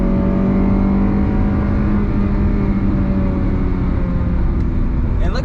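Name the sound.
truck accelerating in third gear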